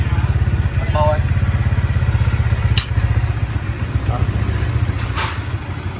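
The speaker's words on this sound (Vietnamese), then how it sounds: "Sau khi mình thay nhớt xong đó, nghe máy không" A Honda Winner X motorcycle engine, just after an oil change, idles with a steady rapid rhythmic putter close by, while someone talks over it.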